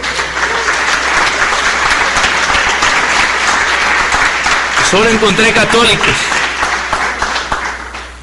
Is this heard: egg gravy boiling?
no